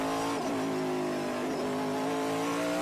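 A Trans Am race car engine is heard from onboard during a race at Road Atlanta. It is loud and continuous, with its pitch sweeping up and down through shifts and lifts as the car works through corners.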